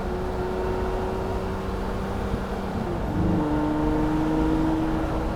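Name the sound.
Lamborghini Murcielago Roadster V12 engine downshifting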